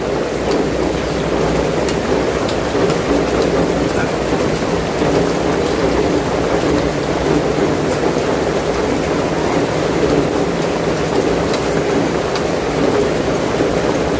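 A downpour of heavy rain drums continuously and loudly, a thick even wash of noise with a deep rumble beneath and muffled voices buried in it.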